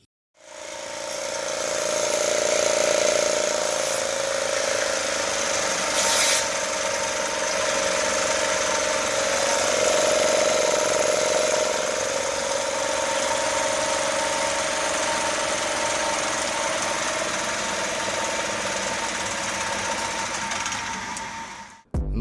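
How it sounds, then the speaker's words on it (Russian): A Yamaha 9.9D outboard motor runs very noisily for about twenty seconds, a loud, steady, rattling mechanical drone that keeps an even pitch from start to finish. "мотор очень сильно шумел."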